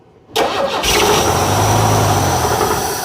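A 1971 Chevrolet C10 shortbed pickup's inline-six engine cranks and catches, then settles into a loud, steady idle close by.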